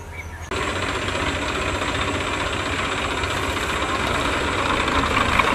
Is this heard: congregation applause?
no